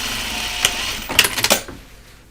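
A sewing machine stitches a fabric laundry basket with a curly stiffener, giving a few short, uneven bursts of mechanical whirring close by before fading into quiet.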